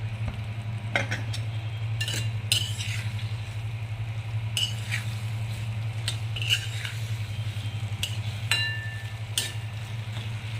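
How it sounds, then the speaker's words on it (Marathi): Sweet corn stirred into a cornflour mixture in a pan, light clinks and scrapes of a spoon recurring irregularly over a low steady hum, close and fairly quiet. "आता हे स्वीट कॉर्न याच्यात टाकून घ्यायचे."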